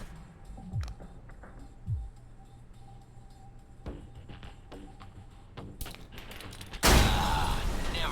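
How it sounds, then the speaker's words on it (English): A grenade blast tears through a truck's gas tank in the Alpha Protocol video game, a sudden loud explosion with a roaring, crackling burst after several smaller thuds and pops. "Try and chuck one beneath the truck and take out the gas tank"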